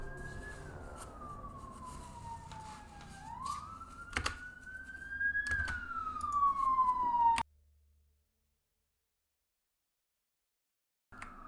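Siren wailing in Warhammer 40k: Rogue Trader, a single rising and falling wail that grows louder for several seconds, then cuts off abruptly into silence.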